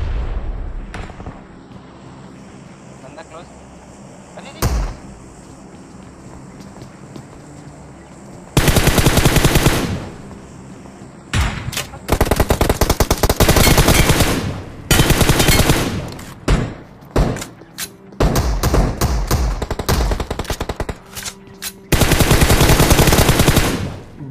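Gunfire in a mobile battle game on a military base map, played on a Vivo iQOO Z3 phone. Long bursts of automatic fire come in several loud, close volleys, with single shots between them and quieter background noise in the gaps.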